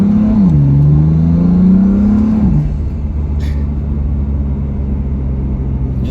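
A BMW F80 M3 fitted with stage 2 turbos pulls away hard, its loud, close engine note rising and settling through a shift, then a steady drone carries on with no one talking.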